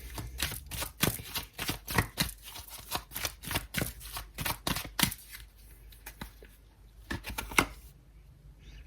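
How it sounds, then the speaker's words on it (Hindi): A tarot deck is handled while cards are drawn, producing a rapid run of crisp flicks and snaps, close and fairly quiet, thinning out into a few scattered clicks near the end. "यहां से भी कुछ कार्ड निकालते हैं।"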